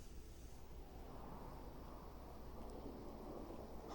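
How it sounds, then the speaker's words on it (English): Thunderstorm in the video game Fallout 4: a steady, fairly faint wash of rain and rumbling low thunder rolls on without pause, with no voices over it. "here comes the storm"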